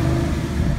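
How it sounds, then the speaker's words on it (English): A 2013 Ford Mustang GT convertible with a six-speed manual gives off a deep, loud, steady exhaust rumble, close and alone for a brief moment. "GT has a pretty nice sounding exhaust"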